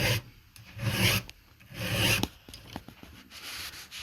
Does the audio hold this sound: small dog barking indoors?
no